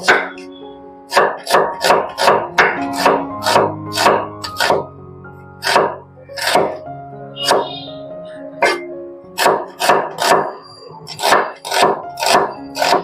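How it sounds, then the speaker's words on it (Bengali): A knife chops an onion on a cutting board in quick, crisp, regular strikes, with a few short pauses between runs. The chopping sounds close and loud, with no talk over it. "সাইডে রেখে এবার পেঁয়াজটাকে কেটে নেব"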